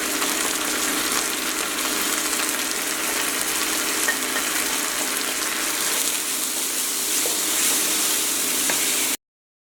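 Spices being fried together with soya chunks in a pan, cooked with salt, cumin powder, red chili powder and turmeric, giving a steady, even sizzle and hiss that runs unbroken and fairly loud, with no voices.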